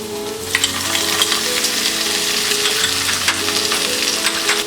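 Garlic and chopped ginger fry in hot oil with asafoetida in a pan, a steady close sizzle with crackling pops and faint stirring scrapes, continuous with no talk.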